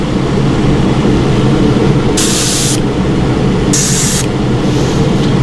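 An Iwata Eclipse HPC airbrush spraying paint through a stencil: two short, sharp bursts of close hiss over a loud, steady background roar, with no talk.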